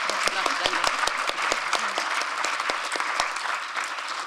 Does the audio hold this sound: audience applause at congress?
yes